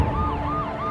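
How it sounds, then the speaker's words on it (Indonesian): Ambulance siren wailing close and loud, its rising and falling tone sweeping in steady cycles over a low engine hum, with no voices. "Simok mengikuti jasad Yong yang dibawa dengan ambulan"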